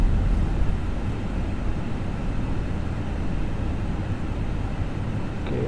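A steady broadband roar of Airbus airliner engines in reverse thrust during landing in a flight simulator game, loud and sustained with no talk.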